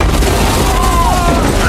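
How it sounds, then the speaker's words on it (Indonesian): A gas cylinder is shot in a restaurant kitchen and explodes, producing a loud, continuous roaring blast with heavy low rumble throughout. "para penjahat menembak tabung gas, membuat dapur restoran meledak"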